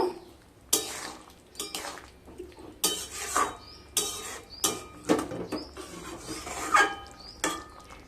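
A spoon scraping and stirring prawn and ridge gourd curry in a pan, a series of sharp metallic scrapes and clinks roughly every half second, fairly faint, with no voices.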